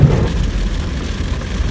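Heavy rain pours down while driving on a California highway, a loud, dense, continuous wash of water and road roar with no breaks.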